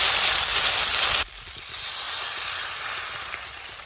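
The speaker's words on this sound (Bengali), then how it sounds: "আমার মশলা কষানো হয়ে গেছে, এবার আমি 1 কাপ জল দিয়ে দেবো" Water poured into fried Bengali spice paste for dhokar dalna sets off a loud, bright sizzle that drops sharply after about a second, then continues as a steady, softer hiss.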